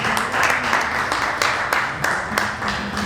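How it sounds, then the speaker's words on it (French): Congregation at a church service applauding and cheering in praise of the Lord, a dense steady wash of clapping with sharp individual claps standing out throughout. "Acclamons bien pour les seigneurs. Si tu es béni, acclame pour les rois."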